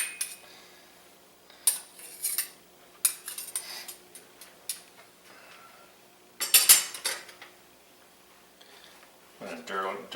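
Metal utensils and dishes clink and clatter in a home kitchen while faux chicken curry pho is served over cooked noodles, in scattered close bursts of sharp taps and scrapes with short pauses between.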